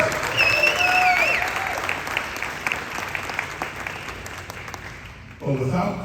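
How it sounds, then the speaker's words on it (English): A room full of people at a gun owners' Second Amendment event clapping steadily, dense and sustained, with a whistle early on and a voice cutting in as it fades. "Give her a big round of applause."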